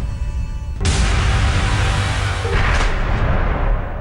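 A MOAB, a GPS-guided massive ordnance air blast bomb, detonates in a sudden loud, broad roaring blast that rumbles on heavily for several seconds with no talk.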